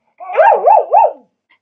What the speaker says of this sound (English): She makes that weird noise when she scratches her ears.